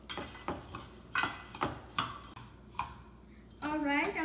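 Coriander and cumin seeds dry-roasting in a pan, with repeated scraping and stirring strokes of a spoon against the metal and a light crackle between, close up, and a voice speaking near the end.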